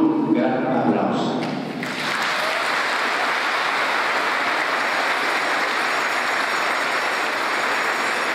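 A crowd bursts into sustained, dense applause welcoming an archbishop at a procession, steady and fairly loud for several seconds after a brief stretch of voices and noise.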